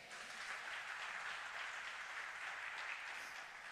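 A church congregation applauds steadily, a dense wash of clapping held at an even level for the whole stretch, with no voices on top.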